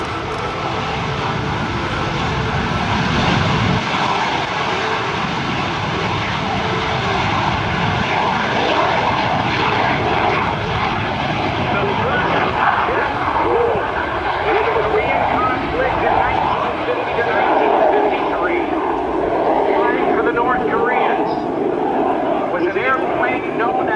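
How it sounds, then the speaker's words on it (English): A North American F-86 Sabre jet roars through its demonstration at an airshow, a loud sustained engine rush that swells and shifts as the aircraft passes, with an announcer talking over it. "He is flying the North American F-86 Sabre jet."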